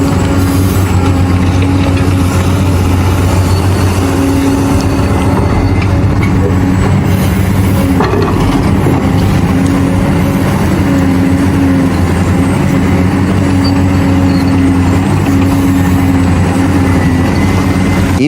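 CAT 349E excavator with onboard weighing loads Mercedes and MAN trucks on a work site, its heavy diesel roaring loud and steady with sustained engine tones and occasional clanks, no voices.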